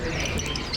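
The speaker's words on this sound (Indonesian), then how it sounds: "Nah ini adalah kenari lokal ini" A local canary sings at a crowded bird kiosk, its bright chirps and trills riding over a dense wash of other birds and market noise.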